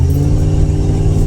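Ford Crown Victoria police interceptor with a strong low engine rumble, idling and revving steadily up close, a loud continuous throaty drone lasting just over a second.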